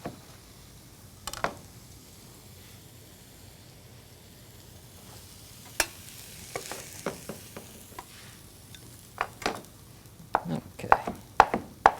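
Cooked jerk chicken being cut into bite-size pieces on a cutting board, sparse knife taps at first that turn into a quicker run of sharp chops toward the end, with one brief spoken word.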